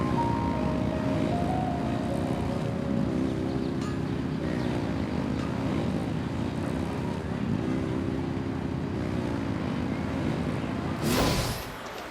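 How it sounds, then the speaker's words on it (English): Engines roar in the video game Genshin Impact as a loud, steady droning rumble that holds for about eleven seconds, then ends with a brief rushing swell before dropping lower. "Rev the engines!"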